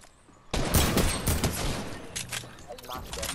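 Sudden gunfire in the Fortnite battle royale game, a dense burst of loud overlapping shots that keeps going in a quicker, ragged rhythm for about three seconds, with voices talking over it.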